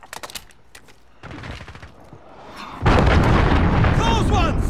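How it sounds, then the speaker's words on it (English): A missile strike explodes in a realism team-deathmatch video game. Scattered pops and talk lead into a sudden, loud, sustained roaring blast that fills the final seconds. "Missile incoming."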